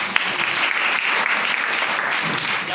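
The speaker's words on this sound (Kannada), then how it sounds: "ಮತ್ತೆ ಚಪ್ಪಾಳೆ ಕೃಷಿಕರು." An audience at a women's farmers' day event applauds farmers with steady, dense clapping lasting a few seconds, filling the room with no speech over it.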